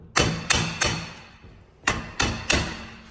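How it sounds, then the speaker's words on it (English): A hammer taps a metal joint on the casting of a Toyota pinion flange: six sharp, ringing metallic strikes, close and loud, in two groups of three with a short pause between. "you'll just tap the joint on the"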